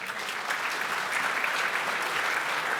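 Audience applause at a business awards ceremony, a dense, sustained round of clapping from a large crowd, steady and fairly loud across the whole stretch.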